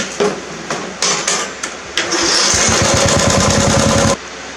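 A mower engine running with its carburetor flipped on backwards: a few sharp knocks and pulls, then the engine fires and runs loud and rapid for about two seconds before cutting off abruptly.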